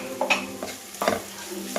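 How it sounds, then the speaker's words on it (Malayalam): Fish pieces dipped in gram flour batter fry in hot oil, a short burst of bubbling sizzle with a few stirring scrapes and clinks. "ഇത് ഓരോന്നും എടുത്ത് അതിലോട്ട് മുക്കി മുക്കി മുക്കി അങ്ങോട്ട് പൊരിക്കും"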